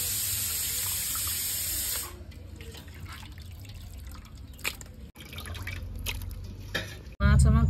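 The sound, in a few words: water running while washing lote fish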